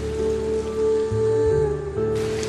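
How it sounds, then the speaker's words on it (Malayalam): Rain effect in a Malayalam radio drama: a steady wash of falling rain sits under sustained low musical tones, brightening toward the end. "മഴയുടെ ശക്തി കൂടിക്കൂടി വന്നു"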